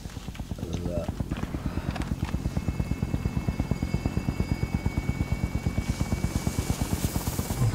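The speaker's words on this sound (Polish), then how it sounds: "Helikopter na miejscu czeka na depozyt" A video game helicopter hovers with a steady, fast rotor thump that grows louder and more even after a moment, with a voice briefly heard early on.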